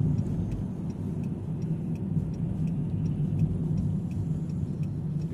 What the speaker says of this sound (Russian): Выключила поворотник, опять включай.